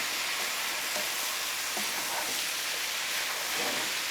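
Cabbage frying with kielbasa in a hot pan gives a steady, loud, close hiss and sizzle that keeps up without a break, with faint stirring scrapes underneath and no talk.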